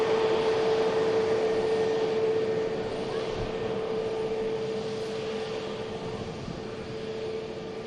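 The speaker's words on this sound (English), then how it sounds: "I've got Pegasus on the taxi out." A Pegasus airliner taxis out at Manchester Airport, its engines a steady droning whine with a constant tone, fairly loud and easing slightly over time, with no talk.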